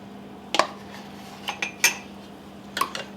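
A utensil clinks against a bowl in a few sharp, separate knocks while eggs and whipping cream are mixed together, close and clear with quiet pauses between strokes.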